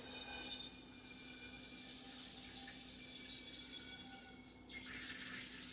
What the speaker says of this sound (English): we're going to grab another pan and we're going to fill it up with about 1 cup of water